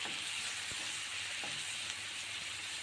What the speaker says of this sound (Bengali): পেঁয়াজ বাটা এবং রসুন বাটা তেলের মধ্যে দিয়ে ভালো মতো কষিয়ে নেব